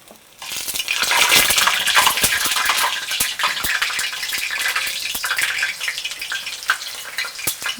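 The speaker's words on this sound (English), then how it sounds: "let's put some balls in flaming oil" Potato balls crackle and sizzle steadily in hot frying oil, a loud close bubbling with scattered sharp pops throughout.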